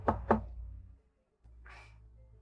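Two sharp knocks on a door, close and loud, land in quick succession. A pause of near silence follows, then a dull shuffle and soft background rustle.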